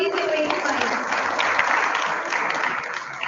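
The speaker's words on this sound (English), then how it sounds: "Can we have a huge round of applause for these innovative minds?" Loud, sustained audience applause for young innovators at a skills summit venue, a thick continuous roar of clapping that barely fades over a few seconds.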